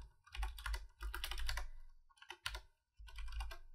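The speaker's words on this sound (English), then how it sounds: "I am really struggling to type." Fingers typing on a computer keyboard at close range, in uneven bursts of quick clicking keystrokes separated by short pauses, including one brief silent gap.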